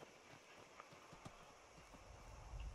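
Faint hoofbeats of a horse in the video game Skyrim, a loose clip-clop rhythm set back in the distance under a low ambient background, with no talking.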